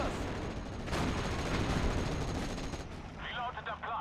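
Heavy gunshots and booming fire in a World War II style war video game, a sustained loud barrage with a faint voice near the end.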